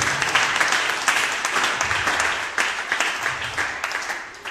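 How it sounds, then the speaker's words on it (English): A church congregation claps together in a large room, a loud, sustained wash of many hands with small uneven swells, no voices standing out. "Let's clap for Jesus."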